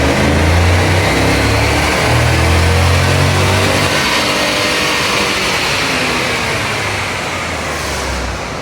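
A turbocharged Chevrolet Suburban roars loudly on a chassis dyno in fifth gear, its engine note steady and heavy close up, then easing slightly toward the end.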